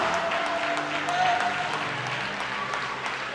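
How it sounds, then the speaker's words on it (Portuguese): A church congregation applauds in praise, steady dense clapping with a sustained musical tone beneath and a voice over it throughout. "Vai, vai, aplaude a Jesus"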